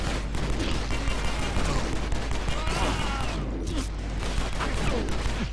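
Dense gunfire from the video game Stranglehold, rapid overlapping shots in a continuous loud fusillade with chaotic action noise, and a voice talking now and then over it.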